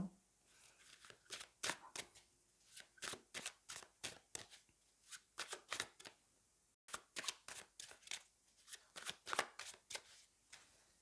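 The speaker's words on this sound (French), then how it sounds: "On va aller prendre des cartes du tarot." Tarot cards being shuffled by hand, close and quiet, in a rapid rhythmic series of riffling bursts with a brief pause midway before the shuffling resumes.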